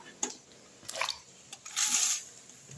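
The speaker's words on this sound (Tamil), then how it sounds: "தண்ணியில் கழுவி குக்கரில் போட்டுக்கலாம்" Drumsticks being rinsed in water before going into a pressure cooker, with soft splashes, drips and squishy handling sounds in short bursts, close and quiet.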